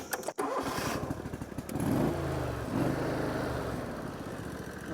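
A Chinese mini excavator's engine rattles into a steady low idle close by, a loud, even diesel chug that holds without speech after a brief clatter at the start.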